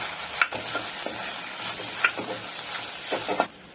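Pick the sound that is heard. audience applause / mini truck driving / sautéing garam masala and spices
sautéing garam masala and spices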